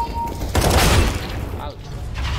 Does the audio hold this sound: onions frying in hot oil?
no